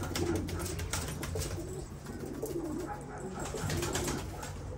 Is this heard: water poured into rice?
no